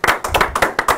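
A studio audience on a French talk show applauds a guest with a brief, uneven run of sharp handclaps, about half a dozen distinct bursts, close and loud with no voices.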